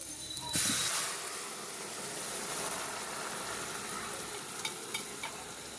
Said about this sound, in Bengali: এখানটা একটু জিরে মানে ফোড়ন ভেজে দিব